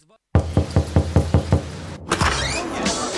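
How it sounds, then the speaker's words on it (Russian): Someone bangs on a door with about seven rapid, heavy knocks, then a sharp crash and rattle as the door breaks, loud and close, mixed with a voice. "а это я ломаю дверь"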